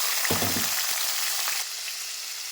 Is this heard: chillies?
yes